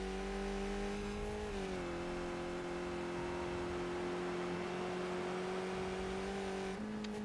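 A NASCAR Cup race car engine in a racing video game at Sonoma Raceway drones steadily at high revs, with a brief dip and shift in pitch partway through, continuous and alone.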